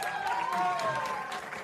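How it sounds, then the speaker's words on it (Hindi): An award-ceremony audience claps for actor Pawan Singh, a brief, moderately loud burst of crowd applause with a faint tonal sound running beneath it. "जोरदार ताली पवन भैया खातिर।"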